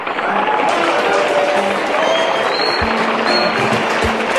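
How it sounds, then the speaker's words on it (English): Loud, steady applause from a pageant audience for a contestant at a Miss Nigeria event, a dense wash of clapping running throughout with crowd noise and faint voices mixed in, plus a couple of low thumps near the end. "A round of applause to contestant number 9"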